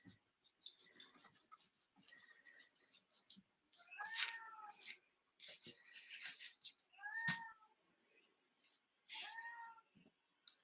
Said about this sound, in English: Cat is just yelling.